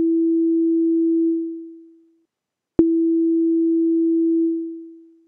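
A pure synth tone holds steady, then fades out over a slow release; after a short silence a second note starts with a click, sustains, and tapers away gradually, with no voices.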